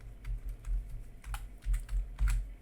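Typing on a computer keyboard, bursts of close, soft key clicks in an uneven rhythm with short pauses between.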